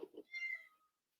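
A house cat meows once, short and fairly close, a brief rising-falling call followed by quiet.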